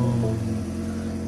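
A used car bought at a US auction idles just after starting, a steady low engine rumble with a slight shift in tone early on, heard alone and close by.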